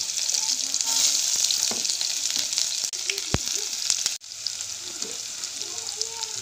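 Onions sizzle and fry in a pan for an adobo of chicken liver and gizzards, making a loud, steady crackling hiss from start to finish with a few brief clinks.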